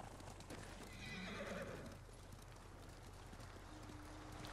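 A horse neighs loudly and hooves clop in the Ghost of Tsushima video game, a whinny rising for about a second over a rumbling background, followed by quieter ambient noise.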